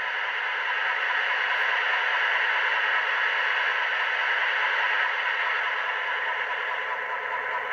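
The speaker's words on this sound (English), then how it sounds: "F4 is diesel fan." Steady broadband whoosh of the diesel cooling-fan sound from an ESU LokSound DCC decoder in an Atlas Master Gold HO scale FM H16-44 locomotive, an even, continuous rushing hiss with no voices over it.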